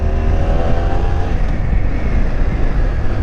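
BMW F800GS motorcycle fitted with an Akrapovic exhaust, its engine revving near 6,000 RPM as the clutch is let out, a loud, steady, close-up engine drone that holds throughout with no one talking.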